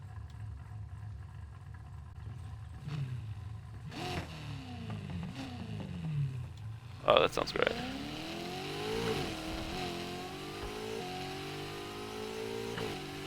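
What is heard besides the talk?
Corvette engine revving in video game Need for Speed Heat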